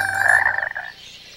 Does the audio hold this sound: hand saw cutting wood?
no